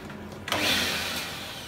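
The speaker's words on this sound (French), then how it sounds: "chauffage plus aspirateur, les plombs sautent" A vacuum cleaner starts up in a workshop, a sudden whine and roar that swells then holds steady and close.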